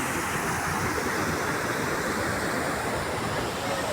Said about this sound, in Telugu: ఇక్కడ వాటర్ వస్తూ ఉంది